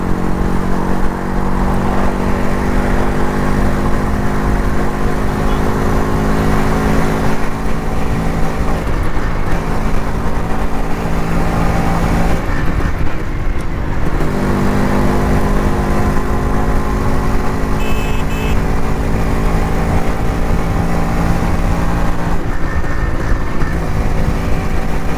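A motorcycle cruises at speed along a highway between Avinashi and Tiruppur, with a steady, loud engine drone and wind rush that never lets up.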